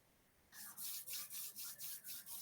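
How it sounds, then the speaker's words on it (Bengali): Hands rub together slowly, giving about seven soft, even swishing strokes in a steady back-and-forth rhythm, close and quiet with no voices. "আমরা আস্তে আস্তে হাত ঘষে"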